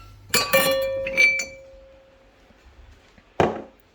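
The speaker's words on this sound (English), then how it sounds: "I was just hitting a glass on the cupboard" A drinking glass is struck against a cupboard, producing bright clinks with a ringing tail, then a second sharp clink a few seconds later in a quiet kitchen.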